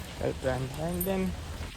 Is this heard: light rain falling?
yes